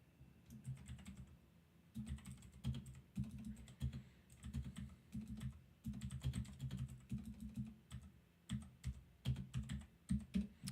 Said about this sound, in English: My keyboard is funky right now.